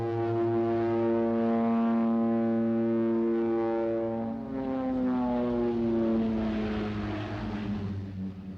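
A Swiss Pilatus Turbo Porter turboprop at the 1976 Farnborough air show gives a loud, steady propeller drone with strong tonal harmonics that shift in pitch as it passes, heard alone without voices.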